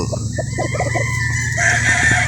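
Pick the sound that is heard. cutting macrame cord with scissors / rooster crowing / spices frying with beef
rooster crowing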